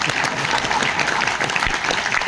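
Audience applause at a Hindi poetry recital, steady dense clapping from a seated crowd, fairly loud and continuous throughout.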